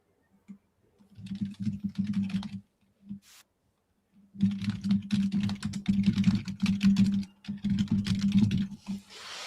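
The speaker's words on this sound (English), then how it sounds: "Easy on the keyboard." Rapid bursts of typing on a computer keyboard, close and clear, with a brief pause between runs of clattering keys during a live cricket watchalong.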